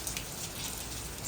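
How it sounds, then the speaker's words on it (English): Rain falling outdoors as a hurricane approaches, a dense even hiss of drops on surfaces, close and steady with no speech. "we've got rain. That's what we've got."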